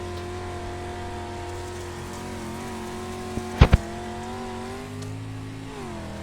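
A dirt race car at Limaland Motorsports Park holds a steady engine drone whose pitch rises and falls as the throttle is worked, broken by two sharp loud bursts in the middle.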